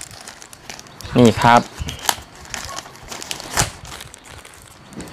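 Plant package being wrapped and folded for shipping, crisp crinkling and rustling of wrapping material in bursts, with someone speaking briefly over it.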